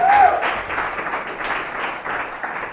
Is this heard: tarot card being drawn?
no